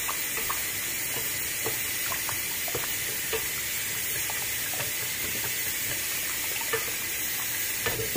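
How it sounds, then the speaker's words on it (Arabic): Ingredients for baklawat seniwa, including lemon juice and egg, being mixed, with steady stirring and scraping strokes over a constant hissing background noise. "غادي نخلط كل شيء"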